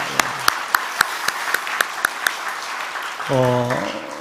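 A few sharp, evenly spaced claps in a steady rhythm from a church congregation during a Sunday service, followed by a voice speaking briefly near the end.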